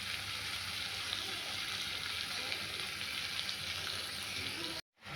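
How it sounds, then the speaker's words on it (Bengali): Ground cumin, coriander and turmeric frying in a pan, a steady hissing sizzle throughout, faint but even, cut by a brief silent gap near the end. "মশলা কষা হয়ে এসছে"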